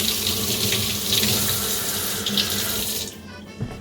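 Tap water runs steadily into a kitchen sink over a cut onion, a loud close splashing rush that cuts off near the end.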